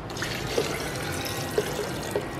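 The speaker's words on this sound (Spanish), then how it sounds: "Vamos a agregarle aquí un poco de agua para que no se quede nada aquí." Water is poured into mole poblano to rinse out the last bits, a soft, continuous liquid pour with a few small splashes and drips nearby.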